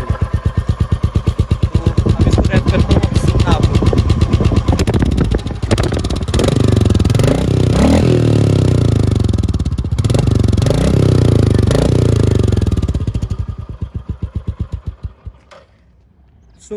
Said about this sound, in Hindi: तो आपको स्टॉक एग्जॉस्ट एक बार इसकी साउंड सुना देते हैं, तो चेक करना।